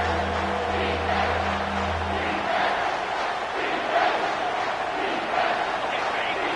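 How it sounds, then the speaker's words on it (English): A football stadium crowd roars on third down during OU versus LSU, a loud sustained wall of cheering and yelling with a low hum fading early on. "this crowd will blow out a vocal cord to help this defense"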